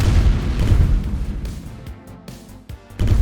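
Deep, heavy booms roll into one another, a loud rumbling blast like cannon fire, ending with a fresh burst.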